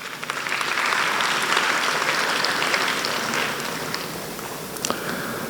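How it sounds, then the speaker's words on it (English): Audience applause at a university matriculation ceremony, a broad sustained wash of many hands clapping in a large hall, steady throughout and slowly tapering near the end. "If you agree with us, please clap for us."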